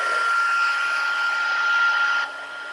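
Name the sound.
heat embossing tool heating and melting embossing powder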